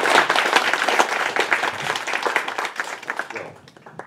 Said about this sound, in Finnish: Taputukset vielä.